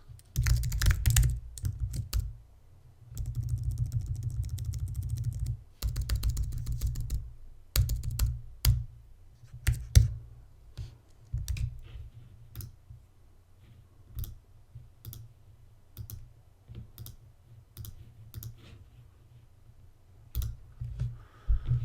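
Computer keyboard typing while logging in on a Raspberry Pi setup: bursts of close, crisp key clicks, denser at first, then sparser individual taps spread across the span, with no talking.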